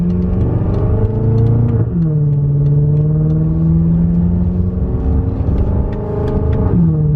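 A BMW car driving on city streets, its engine droning loud and steady inside the cabin, pitch climbing with acceleration and dropping at gear shifts, no talk.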